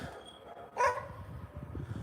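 A single sharp German Shepherd bark stands out close by, surrounded by steady low rumbling background noise.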